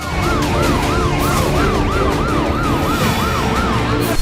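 Ambulance sirens wail continuously at an emergency scene after an attack in Israel, their rising and falling tones steady and loud over a dense background of traffic and crowd noise.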